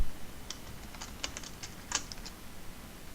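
Quick, light keystrokes on a computer keyboard, a short irregular burst of clicks close by in a quiet room.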